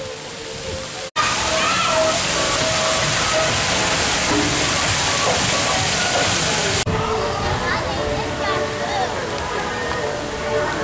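Water splashes and sloshes continuously on a Legoland Florida splash battle ride on a sunny day, a loud dense rush of spraying and pouring water close by, lasting about ten seconds after a brief cut at the start.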